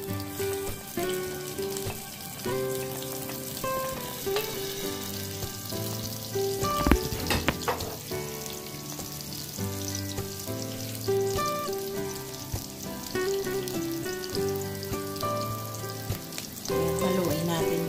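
Onion frying in a pan while making Filipino tinolang manok, a continuous crackling sizzle with occasional stirring scrapes, close and steady throughout, with faint music in the background.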